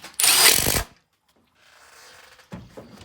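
A power tool whirs loudly for under a second as it runs a bolt down on a radiator during a 6.0 water pump and 7.3 fan clutch conversion, followed by quieter mechanical rustling and a brief clunk.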